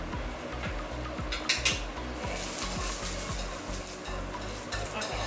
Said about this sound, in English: go ahead and just stir my noodles. It's already becoming a little bit softer.